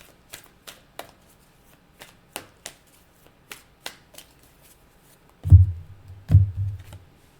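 A deck of oracle cards being shuffled: a run of crisp, light card flicks and taps, then two louder, fuller riffle-like bursts near the end, close and quiet with no talking.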